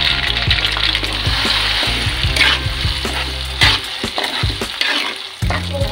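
Ground spice paste hits hot reused fish-frying oil in a pan for Acehnese keumamah, giving a loud, steady sizzle and crackle with stirring scrapes throughout.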